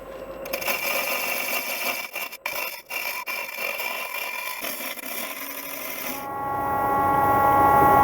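A woodturning lathe cuts down the wooden end piece of a travel coffee mug, a steady mechanical whir with scraping, rasping tool contact and brief interruptions, then a rising tonal spin-down hum toward the end.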